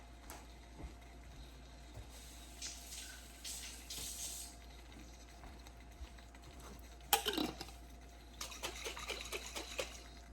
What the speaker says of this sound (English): I'm going to get a little trickle of water inside my jar, shake it, and get the rest of my sauce out.